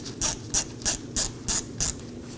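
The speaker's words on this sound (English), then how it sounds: "I'll be using a T30 Torx bit to remove the screw." A ratchet driving a T30 Torx bit clicks in six evenly spaced bursts while loosening the wheel speed sensor screw on a 2018-2024 Chevrolet Equinox 1.5L, close and alone over a low hum.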